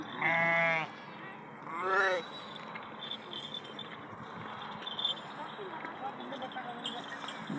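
Sheep from a flock bleat twice near at hand early on, with pilgrims talking and the busy murmur of a crowd continuing beneath and after.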